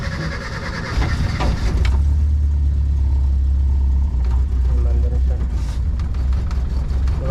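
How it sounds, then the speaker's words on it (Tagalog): A struggling engine idling at low RPM, a deep, heavy rumble that shakes and stutters as gas is applied gently, with someone talking over it nearby. "Mababa pa yung RPM niya yun"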